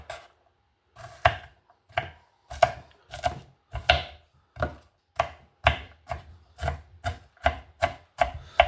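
A knife chops raw onions on a cutting board in sharp, evenly spaced thuds, starting sparse and then settling into a quick, steady rhythm, close and alone with no talk.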